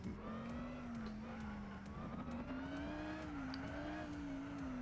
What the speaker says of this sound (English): Ooh, you're drifting your Enzo.